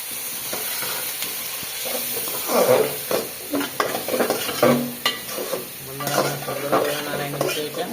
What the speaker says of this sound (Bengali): এই মাছটা ভেজে নিচ্ছি সুন্দর করে